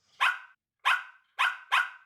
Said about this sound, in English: That dog is loud.